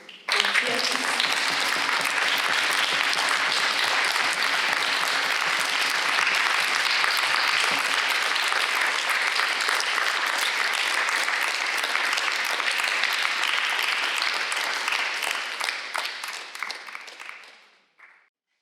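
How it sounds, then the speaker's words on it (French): A packed audience at a closing evening event applauds in a steady, dense wash of clapping that holds for about fifteen seconds, then thins and fades out. "je pense qu'on peut encore les applaudir et les porter par nos applaudissements"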